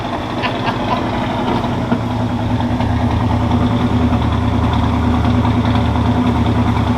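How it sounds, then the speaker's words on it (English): A 1976 Buick Century Custom, about 44 years old, idles steadily and close by, a low rumbling chug with a slight uneven lope, continuous with no voices. "That'd be a 41-year-old, 44-year-old car idling like that"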